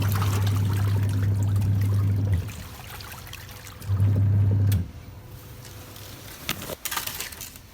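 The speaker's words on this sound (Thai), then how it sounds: "แล้วเราจะแช่ชุดเจ้าสาวนี้ไว้นะคะ" Water trickles and pours into a basin while a wedding dress is soaked for stain removal at a laundry shop, a steady low running flow that stops, returns briefly, then gives way to small splashes and handling sounds.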